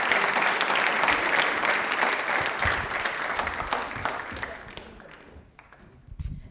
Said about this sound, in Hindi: प्लीज एक बार जोरदार तालियां।